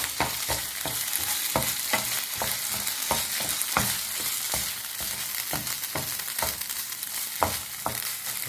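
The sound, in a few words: stirring frying onions with tomato sauce in a pan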